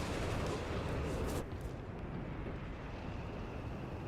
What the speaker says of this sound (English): Oh, more base howitzer artillery coming in on this plus 10 fuel.